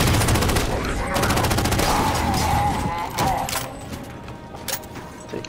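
Gunfire from the Halo 4 shooter game crackles in rapid bursts of repeated shots, loud and dense at first, then thinning into sparser, fainter cracks toward the end.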